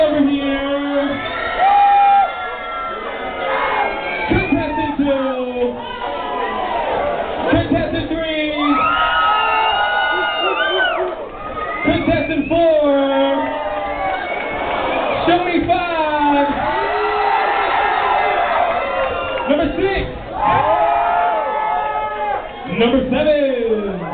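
A crowd cheers for contestants at a model search at Venue 126, with loud sustained shouting, whoops and excited voices rising and falling throughout.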